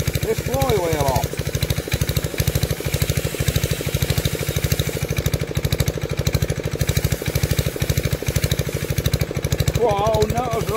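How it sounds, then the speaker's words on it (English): Air compressor running hard to power air tools on a Villiers Mk40 engine, a loud, rapid, steady pumping chug throughout, with brief faint voices in the background. "we have the compressor back on and we've got some wind"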